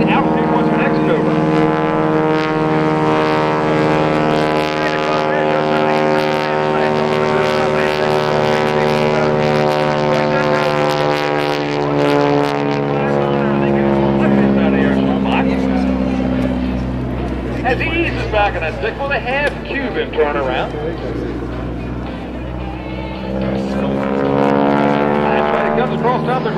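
A T-6 propeller airplane flies aerobatic rolls at the 2009 New Garden Airshow, its engine a steady, loud, droning buzz whose pitch bends as it passes, with an announcer talking over it throughout.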